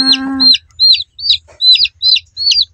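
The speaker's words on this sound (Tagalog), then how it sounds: "Bagong sisiw. 3rd batch na anak niya." A hen with her newly hatched chicks, close by: a short burst of low clucking, then repeated high, bright peeping calls from the chicks in a steady rhythm, with no talking.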